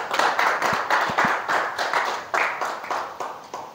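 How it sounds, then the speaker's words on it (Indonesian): Audience at a communication skills workshop claps in a rhythmic series of sharp, evenly spaced bursts, close and fairly loud, like synchronized group clapping, with no talking over it. "Tepuk tangan untuk kita semua."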